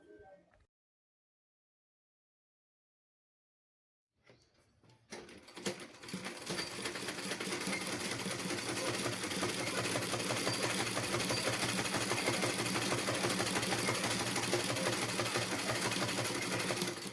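A sewing machine stitching fabric for a DIY top starts after a short silence and builds to a steady, fast mechanical whir that runs close and unbroken to the end.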